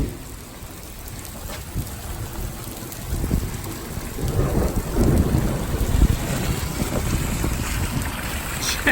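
Thunder rumbles from a lightning storm directly overhead, with heavy rain drumming steadily on a surface; the low rolling booms swell and grow louder midway through, no voices present.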